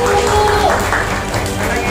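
Parents and guests at a kindergarten graduation ceremony clap together in a short, dense burst, with voices and crowd murmur mixed in beneath the applause.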